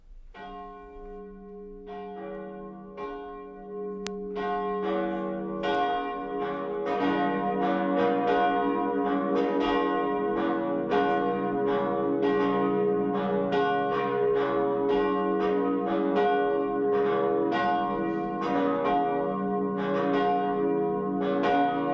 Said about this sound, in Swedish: nu får vi lyssna på kyrkklockorna